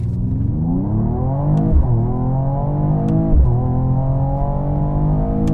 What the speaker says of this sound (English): Race mode launch.